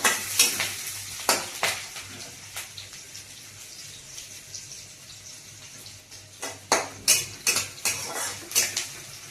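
Onions and green chillies fry in a couple of spoons of oil while being stirred in a pan for a fish curry. A spoon scrapes and clinks against the pan in scattered bursts over a low, steady sizzle.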